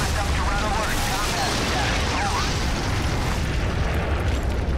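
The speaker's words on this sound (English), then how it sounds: "I just destroyed the whole building." Heavy rumbling collapse of a building destroyed in the game Prototype, a dense, loud roar of crashing debris and booms that fills the whole stretch without pause.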